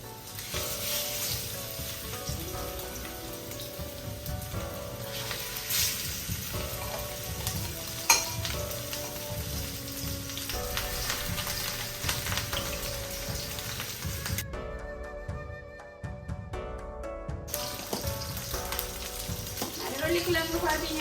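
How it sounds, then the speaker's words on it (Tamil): Fish fries in a little oil in a pan, a loud, continuous crackling sizzle close by that runs steadily with brief dips, including a short quiet gap near the end. "இப்போ மீன் இருக்குல்ல பொரிக்க போட்டுக்கொள்றேன்"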